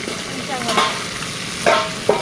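Fish heads cook in a pot at home, giving a steady frying sizzle with a few scraping stirs and utensil knocks close by.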